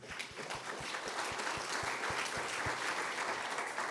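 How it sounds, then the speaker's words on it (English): Applause fills a room at a fundraising event, a steady crowd of hands clapping with a regular low thumping beat underneath, moderately quiet and continuous throughout. "please give yourselves a round of applause"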